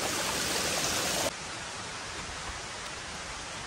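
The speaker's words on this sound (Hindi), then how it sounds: "पानी यहाँ से आता है, ये नेचुरल स्प्रिंग वाटर है" Natural spring water flows steadily in a continuous broadband hiss and rush, fairly close, briefly louder before settling into an even gurgling stream, with no voices.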